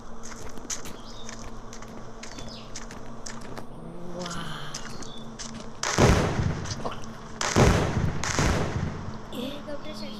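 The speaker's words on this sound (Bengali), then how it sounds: "আমাকে তো গোলা মারছে।" Shells fired at the player in a video game, two heavy booming impacts a couple of seconds apart, loud and close over steady game ambience.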